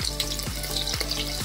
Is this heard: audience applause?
no